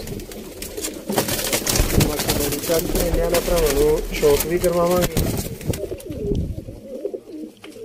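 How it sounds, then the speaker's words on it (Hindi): Teddy breed pigeons coo in soft repeated rolling calls close by while someone talks over them throughout. "चौरी सखी वाले टैडी कबूतर माशाल्लाह"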